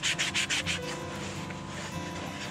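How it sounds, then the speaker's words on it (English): Coarse 80-grit 3M sanding pad rubbing over carved wood on a brown trout carving, with several quick rhythmic scrubbing strokes up close at first, then a steadier, softer continuous rub. "it's a 3M sanding pad."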